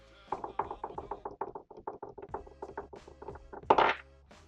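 A small hobby robot buzzes and rattles in a vibration-on-contact mode, a rapid series of mechanical clicking pulses, close and steady, ending in a brief louder burst.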